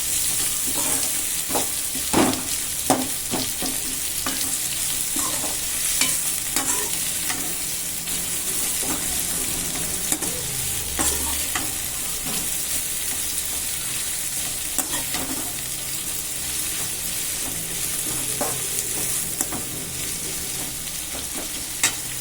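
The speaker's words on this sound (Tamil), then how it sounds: "இது வந்து கொஞ்சம் நல்லா பொன்னிறமாக வர வரைக்கும் நல்லா வதக்கிக்கணும்." Kurma ingredients sautéing in a pan until golden, giving a steady loud sizzle and hiss throughout, with frequent scraping and stirring clicks from a spoon against the pan.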